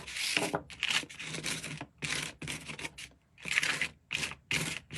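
Goopy, slightly fluid paint is scraped across an art journal page in a series of rough, rasping strokes separated by short pauses, close and fairly loud with no talking.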